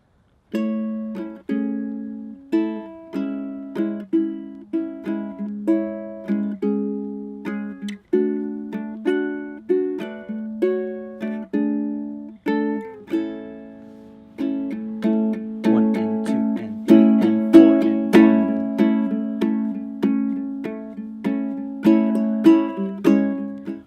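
Fingerstyle ukulele plays the last verse of a song leading into the chorus, plucked notes and arpeggiated chords in a steady gentle rhythm, close and solo, growing busier toward the end.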